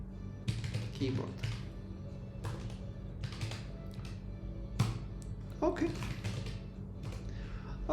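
Sparse, irregular keystrokes on a computer keyboard while coding in Rust, sharp taps spaced apart over a low steady hum.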